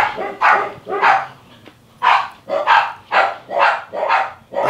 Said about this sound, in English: Oh no, the dogs again.